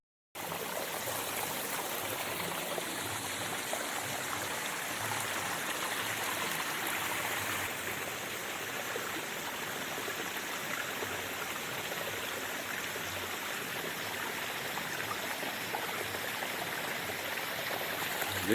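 Water trickling and splashing over a stone basin on a mountainside in the rain, a continuous close rushing flow with no talk.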